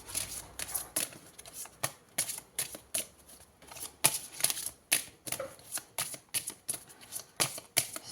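Tarot cards riffled and shuffled by hand in a rapid run of soft, crisp bursts, close and fairly quiet, with no talking.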